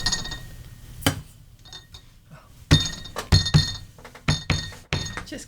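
Knocks and thumps against a table with glassware rattling and clinking, scattered sharp hits coming in irregular clusters, close and fairly loud.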